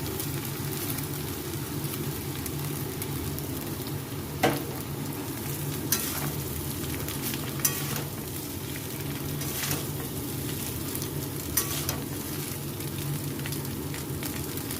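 Rice frying in a pan for fried rice gives a continuous close sizzle with periodic sharp scrapes and taps of a spatula against the pan, and no one speaks.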